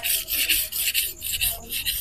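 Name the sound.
Victorinox knife sharpened on coarse King 300 grit whetstone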